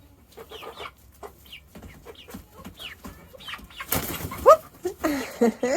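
Hens cluck and chatter at close range, soft at first, then louder squawks and excited calls toward the end.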